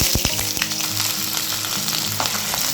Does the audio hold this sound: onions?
yes